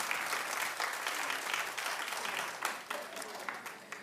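Sustained studio audience applause on a daytime talk show, dense and steady clapping from a crowd that holds at full strength and tapers slightly near the end.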